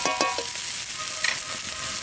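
Chicken pieces go into fried spice paste in a hot pan, giving a loud, steady close-up sizzle with stirring scrapes near the start and no talk.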